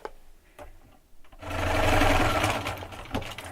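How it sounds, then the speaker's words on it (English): A sewing machine joins the seams of a quilt block in one steady close whirring run of about two seconds, after a few quiet handling clicks. "we're going to sew that together."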